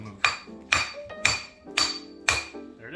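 Hammer blows on metal during rear differential service on a Nissan 300ZX: five sharp, ringing strikes at an even rhythm about half a second apart, close and clear with no talking.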